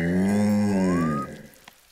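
A cartoon cow gives a loud, drawn-out moo with a rising tail, then fades into quiet rustling.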